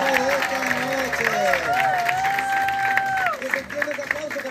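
An audience applauds at a live evening event, a sustained wash of clapping and crowd noise under a loud voice speaking over it, easing off toward the end.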